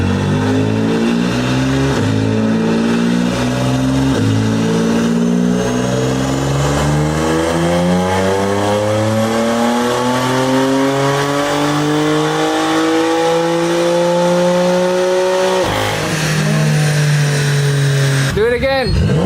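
A BMW M car with a Mad Max aftermarket exhaust revs loudly and steadily climbs through the gears in a rising drone for about fifteen seconds. The engine drops suddenly at the end, and a voice can be heard over the noise.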